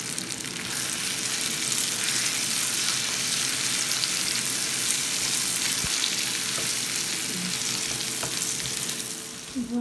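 Meat with onions, mustard and mayonnaise sautéing in a pan, a steady close sizzle and crackle with occasional stirring scrapes, continuous and without voices.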